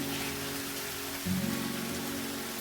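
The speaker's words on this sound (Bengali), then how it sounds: "এবার আমি মশলাটাকে খুব ভালো করে ভাজবো।" Ginger-garlic paste and spices frying in a pan, a steady crackling sizzle like light rain on a surface that runs throughout, briefly louder around the middle.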